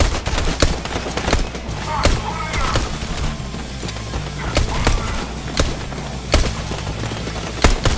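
Rapid bursts of video game gunfire, guards with blue tactical assault rifles firing on a player holding a gray pistol, crack out repeatedly in sharp, loud volleys over a steady background.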